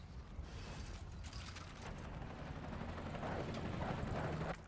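Pistol reload in the Resident Evil video game, a series of faint metallic clicks and mechanical clacks against a low, rumbling game ambience.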